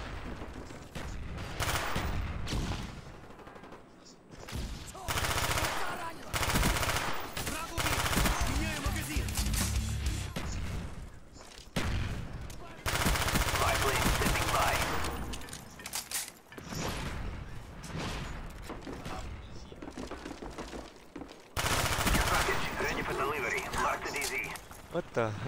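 Galil rifle fire in Call of Duty: Black Ops, with dense rapid automatic bursts separated by short pauses, loud and close and mixed with other game effects.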